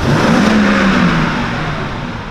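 A Honda CL500 motorcycle engine revs hard close by, a loud, rough roar held briefly and then easing slightly as the throttle drops back.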